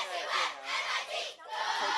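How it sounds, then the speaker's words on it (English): A swim team at a swim meet cheering in unison, a rhythmic chant of pulsing group shouts in an echoing pool hall, loud and rising and falling in about three waves. "Nice little cheer out of the Summit team"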